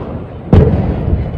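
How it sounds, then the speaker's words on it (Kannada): An atom bomb firecracker goes off during Diwali celebrations, a single loud, close bang followed by a short fading rumble. "ಅದರಲ್ಲೂ ಅಟಮ್ ಬಾಂಬನ್ನು ಹೊಡಿಯೋದು ನೋಡಿದ್ದೀರಾ"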